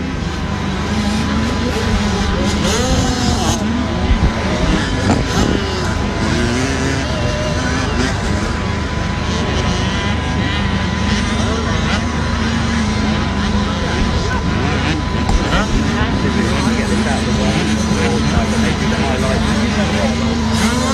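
Youth motorcycle racing at Little Silver, British Youth Championships: a steady, loud engine roar as riders reach the finish line, with a commentator's voice over it throughout.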